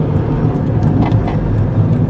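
Steady low engine and road rumble from a car driving along countryside lanes on a sunny morning after rain, a constant drone with no voices.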